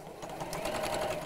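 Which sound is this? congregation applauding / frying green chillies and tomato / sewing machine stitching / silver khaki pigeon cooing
sewing machine stitching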